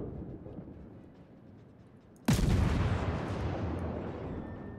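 A World of Warships destroyer's naval gun fires once in a sudden loud boom that rolls into a long rumbling decay over quiet low background noise.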